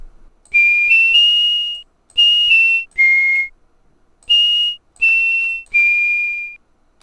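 A pure, whistle-like tone from a Waldorf bank preset on the RUNO Saturn V synthesizer plays several short sustained notes with gentle pitch slides, separated by brief silences, clean and close.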